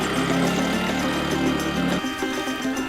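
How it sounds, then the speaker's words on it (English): A race car engine is running, its loud, dense idle drone steady for two seconds before the low rumble drops away and a thinner, higher hum carries on. "with just a little coaxing, the engine starts up"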